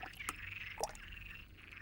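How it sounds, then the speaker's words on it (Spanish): A frog croaks in a natural setting, a few short bright calls and clicks over a faint steady background, quiet and close with no talking. "Esta rana se hace oír en una banda acústica más normal."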